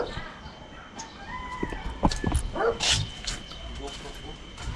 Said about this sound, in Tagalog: Ayan, yung mga aso ni Idol Jumajahols na sila